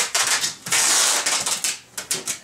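A pen rips through the tape on a cardboard packing box in quick, close scraping bursts, with short pauses between strokes.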